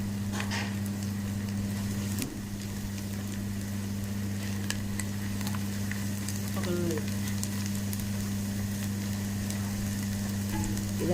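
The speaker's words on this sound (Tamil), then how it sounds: "அரைத்து வச்ச நெத்திலி, இதை கிண்டி விட்டுக்கிட்டே இருங்க." Ground anchovy paste sizzles steadily in a pan as it is stirred, a continuous close frying hiss with occasional soft scrapes and a low steady hum underneath.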